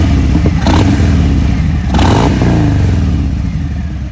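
A 2020 Harley-Davidson Fat Bob 114 motorcycle engine idles loud and close with a steady low rumble, blipped into two short revs before settling back.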